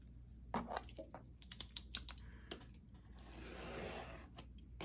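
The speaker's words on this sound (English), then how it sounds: "I'm just going to cut this in half down the middle." Scissors cutting a sheet of paper in half while making a writing pad, heard as a run of close, crisp snips and clicks followed by a longer rustling slide as the blades travel through the sheet.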